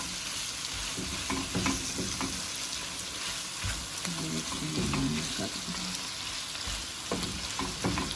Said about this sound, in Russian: Теперь добавим томатную пасту. И тоже, ну, минуты 3-4, пускай она тоже потомится